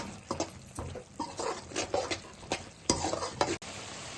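A spoon stirs a tomato sauce and vinegar mixture for chilli chicken in a pan, giving repeated scraping and sloshing strokes with faint sizzling, close and steady, no talk.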